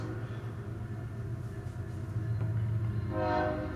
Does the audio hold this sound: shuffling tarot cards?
no